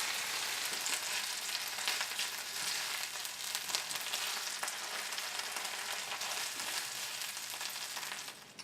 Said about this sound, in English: once our sausage has had a little bit of a chance to cook